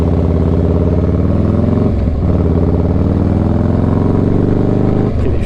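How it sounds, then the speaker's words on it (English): A motorcycle on a North Texas road accelerates hard, its loud exhaust roaring steadily close by, with the engine note climbing in pitch, dipping briefly around two seconds and again near the end as the rider shifts gears. "My exhaust is making quite a bit of noise"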